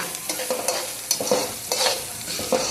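Local chicken frying in a pan, with steady sizzling under repeated scraping and stirring clatters of a spoon at an uneven, quick rhythm, close and moderately loud.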